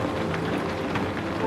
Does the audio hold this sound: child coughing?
no